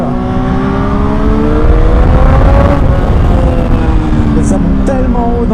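A Triumph Street Triple 765 RS 2021 roadster's engine climbs high in the revs, a loud continuous rising whine with steady harmonics, with a person talking over it throughout.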